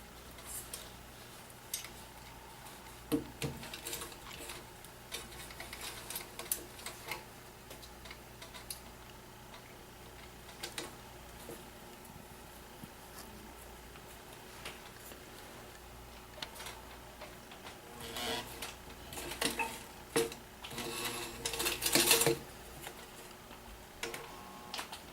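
A sewing machine runs a bottom seam on a fabric barrel bag, giving a steady, quiet mechanical ticking and whirring that continues throughout, with brief louder bursts and handling clatter near the end.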